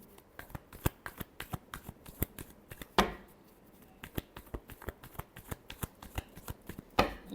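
Tarot cards are shuffled by hand in a quiet room, a run of crisp, irregular riffling snaps and slaps close up with brief pauses between bursts.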